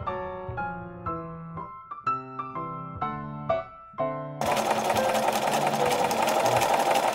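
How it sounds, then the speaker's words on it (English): A sewing machine stitches the facing onto a vintage-style blouse, starting at the hem. It runs in one steady, dense, continuous burst through the last few seconds, after a short passage of tonal music. "The facing is stitched in place in one go, starting at the hem of the blouse."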